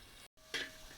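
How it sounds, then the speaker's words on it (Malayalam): Sliced onion dropped into oil left from frying red snapper sizzles in a brief close burst after a short silent gap, with no talk. "ഞാൻ മീൻ ഫ്രൈ ചെയ്ത എണ്ണയിലേക്ക് ഒരു സവാള സ്ലൈസ് ചെയ്തിട്ട് കൊടുക്കുന്നുണ്ട്"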